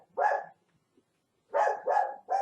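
Several dog barks, a short burst followed after a pause by a rapid run of three, fairly close and loud, with no talking.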